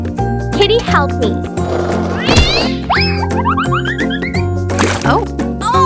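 A cat meows in a few short, rising cries over steady background music in a miniature home kitchen where milk, salt and sugar are going into a small pot; the meows are fairly close and clear.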